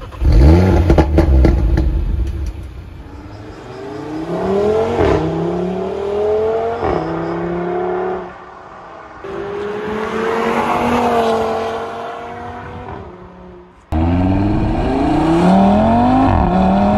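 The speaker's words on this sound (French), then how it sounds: "je vais vous faire écouter le son moteur les amis" An Audi RS3 400 hp engine revving, with loud repeated throttle blips that rise and fall in pitch, separated by brief idle pauses and ending with a sharp rev burst close to the microphone.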